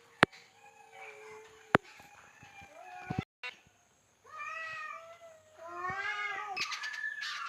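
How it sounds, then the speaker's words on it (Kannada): Several cats yowl and caterwaul outdoors in a drawn-out fight, their rising and falling wails overlapping in bursts with a couple of sharp knocks and a brief gap between calls. "ಈ ಬೆಕ್ಕುಗಳು ಹೊರಗಡೆ ರಾಗ ಆಗ್ತಾ ಇದೆ ನೋಡಿ, ತೋರಿಸ್ತೀನಿ. ಏನೋ ಜಗಳ ಮಾಡ್ತಾ ಇದೆ"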